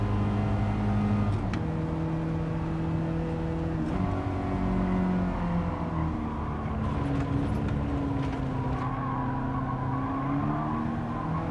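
A small car's engine strains uphill in Gran Turismo 7, a steady loud drone with shifting pitch as it holds and climbs through the revs, with other engines faintly in the mix and no talking.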